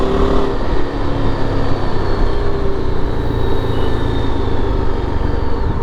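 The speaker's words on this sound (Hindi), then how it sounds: "if you are रिविंग your engine like this, accelerating" A Yezdi Adventure motorcycle engine revs and accelerates on the road, a continuous loud drone with a rising pitch that holds throughout and has no talking over it.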